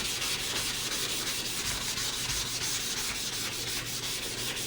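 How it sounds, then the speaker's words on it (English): Steady, close abrasive scraping as the colored coating is rubbed off the back of a phone, a dense rasping texture running unbroken throughout with no voices. "you're just gonna go and basically scrape off the color that is on there"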